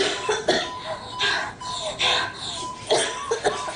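Repeated harsh, raspy coughs come in quick bursts, close and fairly loud, with strained breathing between them.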